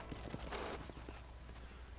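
Horse hooves plodding at a walk in the Red Dead Redemption video game, a soft, steady clip-clop over a constant background hum, with no voices.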